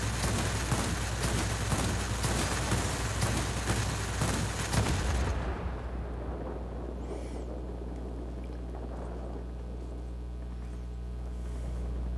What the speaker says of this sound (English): Say hello to the 37mm Oldsmobile cannon.